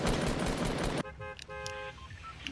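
Rapid assault rifle fire in a shooter video game, a dense roar of gunfire for about a second, then short taps and bursts with tonal game sounds, no talking.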